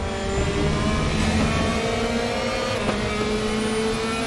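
A 2016 Mercedes-AMG C 63 DTM race car engine in the RaceRoom racing game, a loud continuous high-revving drone with steady engine tones and slight pitch shifts throughout.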